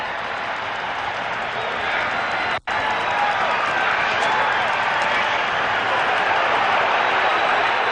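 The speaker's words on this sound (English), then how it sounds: "the crowd groaning, not thinking that Stewart had his arm" A large football stadium crowd at a 1997 NFL game between Pittsburgh and Kansas City lets out a sustained, broad roar of groaning that fills the whole stretch, briefly cut by a split-second dropout, with no talk over it.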